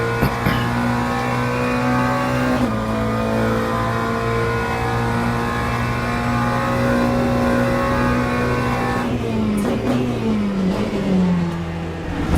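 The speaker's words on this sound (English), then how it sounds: "Fast moving BMW behind us" A fast BMW GT3 race car in Le Mans Ultimate, racing at Le Mans, drones with a loud, steady engine note that holds high, then slides down in pitch as it draws alongside and passes.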